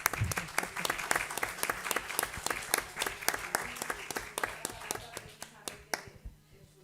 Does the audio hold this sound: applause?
yes